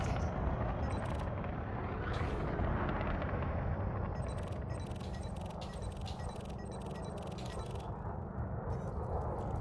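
Weapons on a Sidewinder spaceship in Elite Dangerous fire at a hostile ship in a rapid series of harsh, crackling bursts that blur into a dense, continuous barrage. The sound is moderately loud, with no voices.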